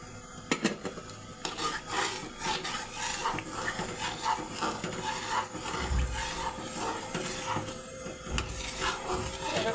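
A utensil stirs vinegar and cornflour into homemade tomato sauce in a pan, giving faint, irregular scraping and light clinks against the cookware.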